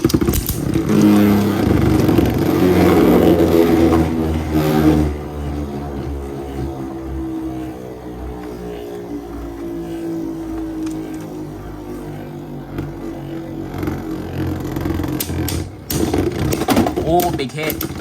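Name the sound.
Beyblade tops spinning and clashing in a stadium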